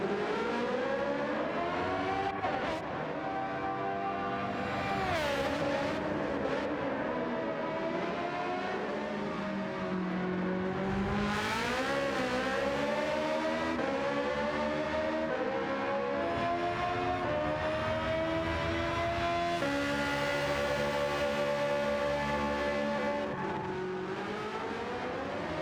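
Sim racing cars roar around a track in a league race, engines revving and shifting continuously with rising and falling pitch, loud and sustained with several cars overlapping throughout.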